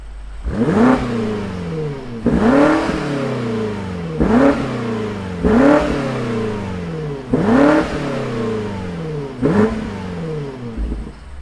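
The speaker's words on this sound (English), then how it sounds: "Let's fire up this BMW X5M Competition and put a smile on our ears and our face." A 2021 BMW X5 M Competition engine revs hard in five repeated blips, each rising sharply then falling back, loud and close with no talking.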